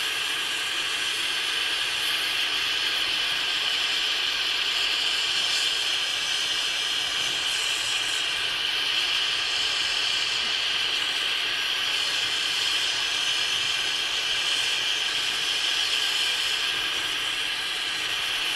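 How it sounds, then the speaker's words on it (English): Acu-Pour furnace rapidly melting metal for sand casting, giving a steady, loud broadband roar and hiss that holds unbroken throughout without pause. "I'm just going to melt this metal quite quickly"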